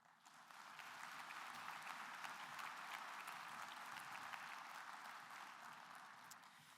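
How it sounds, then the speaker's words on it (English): Applause at the 2023 Good Scout Award Luncheon for the Horan team: a roomful of people clapping steadily, swelling in after a moment and holding at a moderate, distant level before easing slightly at the end. "One more great round of applause for the fantastic Horan team"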